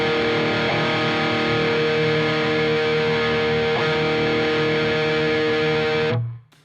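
Heavily distorted metal electric guitar tone through a Mesa/Boogie JP-2C+ John Petrucci signature amp: a loud, sustained chord rings for about six seconds, then is abruptly choked to silence.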